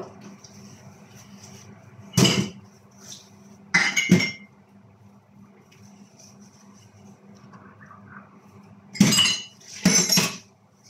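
Cups being taken out in a home kitchen, with a few separate sharp clinks and clattering knocks spaced apart against a quiet background hum and no speech.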